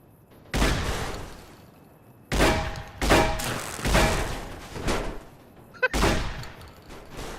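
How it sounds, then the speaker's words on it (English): Shotgun fire in Fallout: New Vegas: a series of heavy booming blasts, each with a long decaying tail, spaced roughly a second apart and loud in the foreground. "You have learned why I love shotguns in this game."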